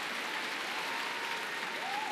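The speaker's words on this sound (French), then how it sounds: "Tu applaudis pour que je me taise aussi," Concert audience at Bercy arena applauding, a broad, continuous roar of clapping from a huge crowd, distant and even throughout with a faint whistle or cheer rising near the end.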